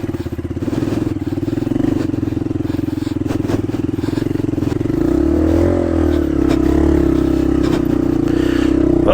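A motorcycle engine labours uphill on a mountain trail, a loud steady drone close by that rises in pitch and strains partway through, with some scraping and clatter from the rough ground.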